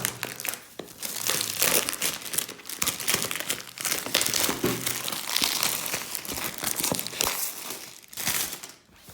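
An international parcel from Almazan Kitchen being unwrapped, its packaging crinkling and tearing in a continuous close, busy rustle for about nine seconds, fading briefly near the end.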